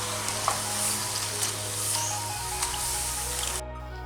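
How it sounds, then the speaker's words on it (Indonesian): Bitter gourd chips fry in hot oil while being stirred, giving a steady dense sizzle broken by a few soft clinks and scrapes before the sound cuts off near the end. "goreng sambil terus diaduk-aduk agar tidak lengket satu sama lain"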